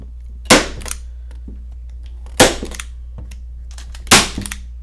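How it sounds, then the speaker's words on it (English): A staple gun fires three times, pinning stencil pieces down, each shot a loud, sharp snap spaced about two seconds apart, with faint handling clicks between them. "I'm going to take my staple gun and just make sure that I hit each piece pretty good all the way around."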